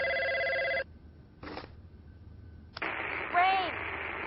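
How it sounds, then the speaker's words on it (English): A telephone rings in bursts, a steady electronic trill broken by gaps, with a brief noisy burst and a warbling tone later; moderately loud, no talk over it. "He's gonna pick up the phone."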